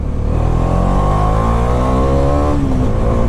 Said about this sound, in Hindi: बाइक का साउंड देना चाहता हूँ।